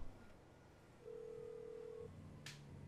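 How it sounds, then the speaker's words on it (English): A phone rings in the video game GTA 5. There is a single steady electronic tone lasting about a second, then a brief sharp click or beep near the end, all faint and with no speech. "Come on, Lester. Answer your phone."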